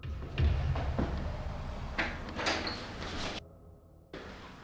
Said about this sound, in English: That door handle moved.